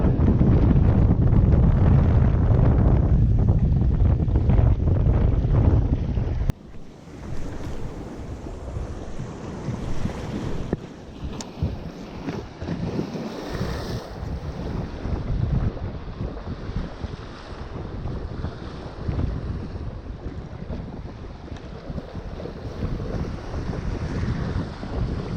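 Strong seaside wind at Folkestone Warren while fishing, buffeting the microphone in a loud, low roar at first, then settling into gusty rushing with surf and water movement in the background.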